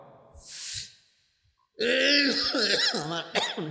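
A single short cough from a man at a village religious sermon gathering, followed after a pause by his voice speaking.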